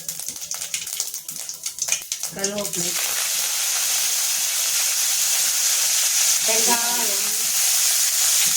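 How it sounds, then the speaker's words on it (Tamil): Mustard seeds, fenugreek and curry leaves spluttering and crackling in hot oil for tamarind gravy, a loud steady sizzle with sharp popping bursts, near, with brief voice sounds early on. "வெந்தயம் கடுகை போட்டு படபடன்னு பொரிய விட்டு"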